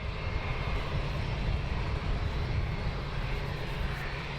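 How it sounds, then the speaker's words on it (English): An EasyJet airliner taxis out at London Luton Airport, its engines giving a steady, even roar with a deep low rumble, heard from a distance and holding constant throughout. "I do believe it's an EasyJet that's beginning to taxi out now"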